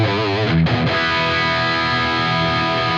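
A thrash-style distorted electric guitar plays through a Line 6 Metallurgy amp simulator. It gives a loud, saturated chord with a brief choppy stutter early on, then rings out sustained and buzzing to the end.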